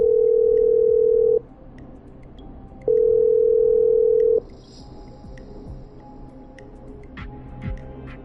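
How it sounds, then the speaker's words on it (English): In a video game, a telephone gives two steady electronic dial tones, each about one and a half seconds, with a short gap between, followed by faint background game sounds. "I'm dialing. One moment."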